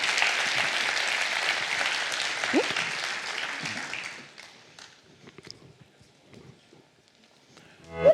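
An audience at a French panel discussion on the future of work applauds in a dense burst of clapping that fades after about four seconds, leaving scattered claps and quiet room noise.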